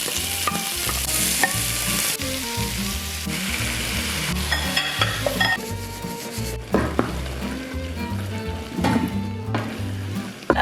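Eggplant frying in olive oil in a pan, a steady loud sizzle with stirring and scraping against the pan over a bed of music, continuous throughout.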